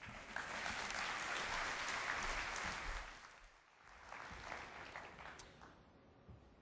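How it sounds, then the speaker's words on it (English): A crowd at a morning talk on online safety applauds steadily, a dense wash of clapping that fades partway through and then swells back up before tapering off. "Ladies and gentlemen, a round of applause, please"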